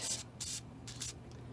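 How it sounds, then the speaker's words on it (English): Short hissing bursts of WD-40 sprayed onto a brake part of a 1979 Mazda RX-7, about four quick close blasts in under two seconds, with no talk. "I'm just going to spray a little WD-40 down on there"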